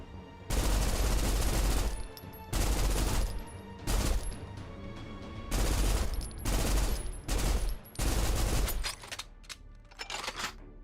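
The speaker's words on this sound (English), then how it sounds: "I get headshots with the turret." A turret machine gun firing in the video game Snowbreak, loud sustained automatic bursts of about a second or two each, repeated several times with short gaps and fading ringing after the last bursts.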